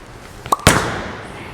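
A Storm Phaze 2 Pearl bowling ball on a house shot is thrown, a short knock followed by a sharp crash of scattering pins that rings and fades, fairly close with no talk.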